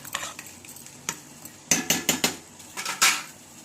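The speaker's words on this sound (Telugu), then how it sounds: "ఒకసారి తిప్పేసుకొని దీన్ని రైస్ కుక్కర్లో పెట్టేసుకోండి" Fried rice is stirred and scooped from a pan into a rice cooker, with a series of clanks and scrapes of a metal ladle against the pots, loudest near the end, over a faint sizzle.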